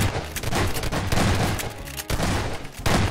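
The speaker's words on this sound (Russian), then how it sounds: "Ой, я уже по-нашему стреляю." Sustained automatic gunfire in the Garry's Mod video game, a near, continuous hammering of shots with only brief breaks.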